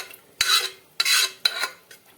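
Stirring onion and potato curry in a pan, with three scraping spoon strokes against the metal at regular intervals, close and fairly loud, and no talking.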